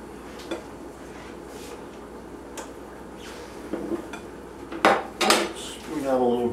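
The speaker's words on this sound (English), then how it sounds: "I'm going to take a little bit of the fried rice, put it down on the plate." Fried rice spooned out of a pan onto a plate for a stove-top teriyaki pork dish: quiet scraping, then louder metal clinks and clatter of spoon against pan and plate toward the end.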